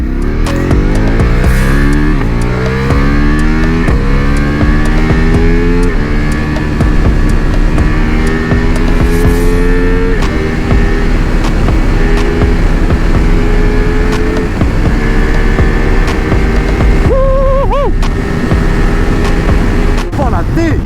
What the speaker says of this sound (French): C'est le moteur V4S qu'on retrouve du coup sur la Multistrada